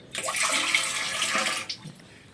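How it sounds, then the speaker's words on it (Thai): Salt water pours steadily into a frog enclosure in a simple condo-style frog-rearing setup, a broad splashing rush lasting about a second and a half before it stops, close and fairly loud with no talking. "ปุ๊บผมก็จะเอานี่ครับน้ำนี่ไปเทใส่ อันนี้เป็นน้ำเกลือนะครับ"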